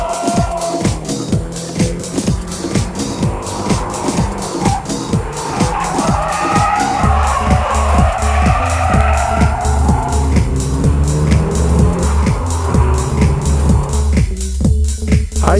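A car holds a high-speed drift, engine revving hard while the tires skid and squeal continuously, with loud rhythmic bursts of power and a deep, steady drone underneath.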